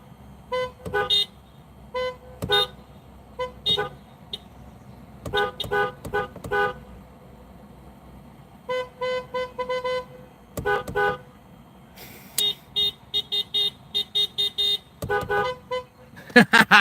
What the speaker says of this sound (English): We've all gone beeping mad.